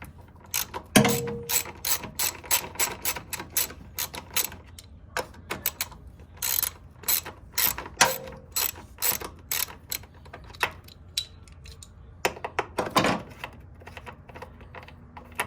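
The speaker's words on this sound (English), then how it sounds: "we're going to remove these two 10mm bolts to get the reservoir out of the way" A ratchet wrench clicks rapidly in quick bursts while loosening two 10mm bolts holding the reservoir on a 1995 Honda Civic during clutch master cylinder replacement, close and crisp with brief pauses between runs.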